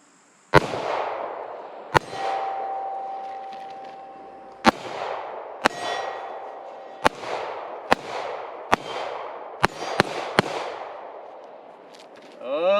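A Glock 48 pistol fires NATO 124 grain ball rounds at targets: about ten sharp, loud shots at uneven intervals, each followed by a short decaying echo, with a faint metallic ring after some hits and no talking.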